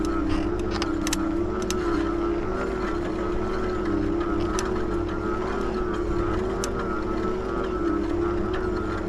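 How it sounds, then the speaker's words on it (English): A Senada Viper Plus torque-sensor e-bike climbing a hill at slow speed with its brake rubbing: a continuous wavering drone and whine, loud and close, over steady wind rush. "You can hear that brake, guys."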